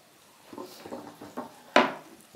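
A chopping board is brought over and set down on a kitchen counter. A few soft knocks and shuffles come first, then one sharp, close clack as it lands, with no voices.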